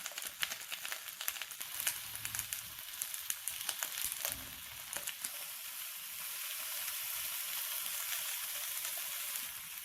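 Tomatillos and green chile peppers toast in a very hot pan for chile verde, giving a loud, steady sizzle with crackling pops that fade into a constant frying hiss, no voices.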